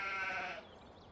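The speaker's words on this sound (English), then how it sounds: "And our sheep wander around back here in this wooded area." A single sheep in Farming Simulator 17 lets out a short, clear bleat from a wooded pen area, fairly close, and it fades after about half a second.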